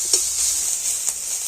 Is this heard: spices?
yes